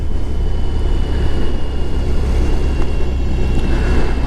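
A BMW R18 motorcycle ridden on the road, its engine a steady loud low rumble blended with heavy wind rush, continuous throughout with no talking.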